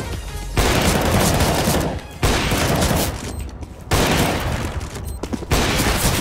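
Rapid CS:GO gunfire comes in loud, dense bursts, with sustained volleys separated by brief gaps that give a choppy, repeating rhythm.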